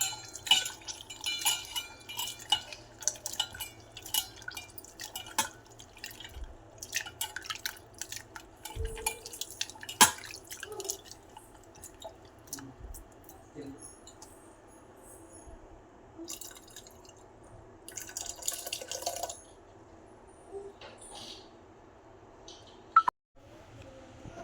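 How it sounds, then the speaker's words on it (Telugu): Tamarind water is poured into cooked dal, heard as faint, intermittent drips, trickles and small splashes with occasional light clinks of a utensil, and a sharp knock near the end. "వేసేసుకున్నాం చింతపండు నీళ్ళు కూడా."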